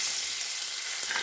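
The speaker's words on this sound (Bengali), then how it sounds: "এখানে মাছটা ভেজে নেব।" Parshe fish frying in hot oil in a wok gives a loud, continuous crackling sizzle, with a faint knock partway through and no voices.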